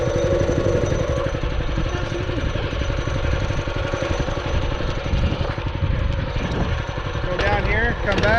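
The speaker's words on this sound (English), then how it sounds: "Let it warm up here for a minute. Don't give it any throttle yet. Let the motor warm up." A Massimo MB200 minibike's small engine idles steadily while warming up, a loud continuous rapid putter close by, with brief rising revs near the end and a voice talking over it.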